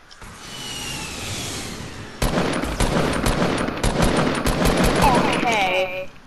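Rapid assault rifle fire from Fortnite, a long burst of close, loud shots that starts about two seconds in and keeps going steadily over in-game background noise.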